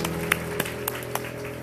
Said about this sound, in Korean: 우리 축복하는 마음으로 박수하겠습니다.